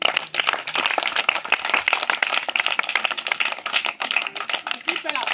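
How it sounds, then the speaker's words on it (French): Crowd applause at a borehole inauguration ceremony at a public school in Bikogo, a dense, steady patter of many hands clapping throughout, moderately close, with voices mixed in. "On applaudit."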